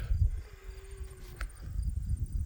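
Cicadas and insects buzz steadily on an outdoor hillside in August, a faint continuous high drone with a sharp click midway and low rustling noise underneath, no talking.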